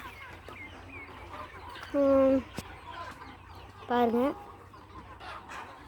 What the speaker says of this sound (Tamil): இதுதான் எங்கள் பெரிய கோழி.